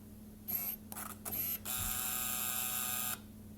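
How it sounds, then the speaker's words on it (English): Ricoh GR1 film camera's motorized film advance, a sharp, loud buzzing whir lasting about a second and a half, preceded by two brief mechanical whirs, heard up close with no voices. "the film advance on the Ricoh is quite a bit louder than that on the Minolta"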